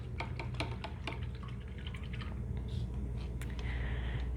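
A paintbrush being rinsed in water during acrylic painting, with soft, close sloshes, drips and taps against a container over a low background hum.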